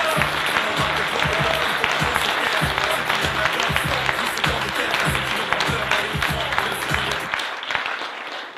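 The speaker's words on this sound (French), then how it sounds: "je vous invite à applaudir Éric Zemmour" Audience applause greeting Éric Zemmour at a debate event, dense and sustained for about seven seconds before thinning out at the end.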